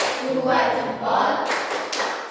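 A group claps out a tepuk salut chant, with rhythmic claps and taps mixed under chanting voices across a short stretch.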